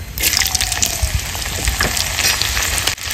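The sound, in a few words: frying dried red chilli, whole cumin and chopped garlic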